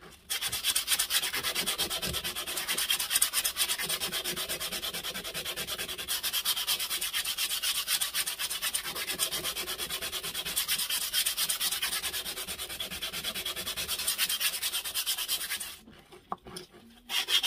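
Steady abrasive rubbing of a Stanley 4 1/2 plane's metal during restoration, sanding or honing in a continuous gritty scrape that stops briefly near the end before resuming, close up with no talking.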